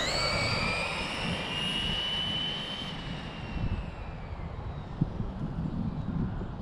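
A Traxxas Drag Slash RC drag car launches off the trans brake at three-quarter throttle, its high electric motor whine sweeping steadily and fading over several seconds, with no voices.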